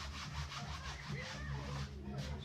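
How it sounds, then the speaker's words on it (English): Writing on a board is rubbed off with a duster in rapid repeated back-and-forth strokes, a soft scratchy swishing heard faintly and close by in a quiet room. "So I'll rub the top part and then we'll continue."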